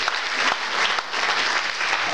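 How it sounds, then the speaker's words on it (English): Applause from a church congregation during a Sunday service, heard as a dense, loud burst of clapping that holds steady for a couple of seconds with a short dip partway. "God clap there. Let's do that again."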